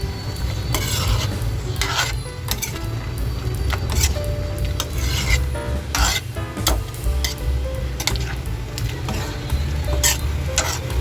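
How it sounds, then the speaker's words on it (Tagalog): A spoon stirs chicken liver menudo with green peas and pepper in a pan, scraping in repeated rhythmic strokes over a low, steady sizzle, close and loud with no talking. "Sabay halo-halo."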